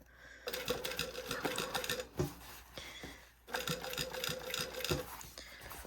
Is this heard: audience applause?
no